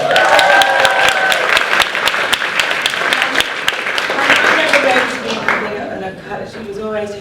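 Audience applause at an evening event with a celebrity, greeting her mother in the crowd: steady, close crowd clapping with a voice speaking over it that fades near the end.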